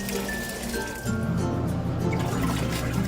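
Water running into a Panasonic washing machine as it fills, a steady low gurgling flow with faint clinks, getting a little louder partway through and continuing evenly throughout.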